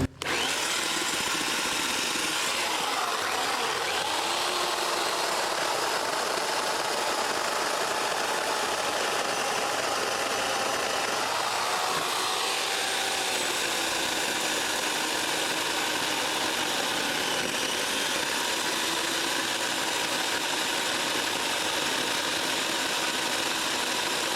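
Hyper Tough 9 amp electric chainsaw with a 14-inch bar cutting through wood, a loud steady whining motor and chain buzz that runs continuously and shifts in pitch as the blade bites, with no speech.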